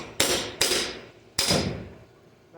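Three sharp hammer blows on a 1-inch-thick plasma-cut steel piece, loud, close and ringing, two in quick succession and then a third after a short pause, with no talking.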